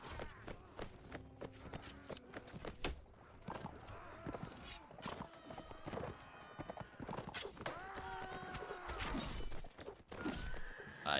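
Horses in Mount and Blade Warband during a siege battle, with repeated neighs and whinnies over galloping clip-clop hoofbeats and clashing combat noise, moderately close and busy throughout.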